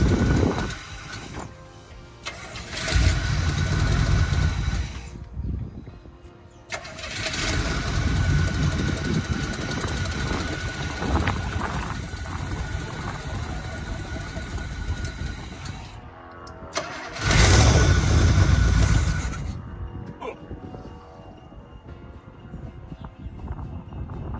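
A 1972 402 cubic inch big block Chevy V8 cranks and catches, roaring loud and close, dropping into a rough idle, cutting out, then firing again with a heavy revving burst.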